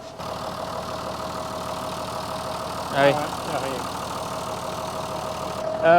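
A Renault tractor engine idles steadily on a farm with a constant low hum, and a person briefly speaks over it midway.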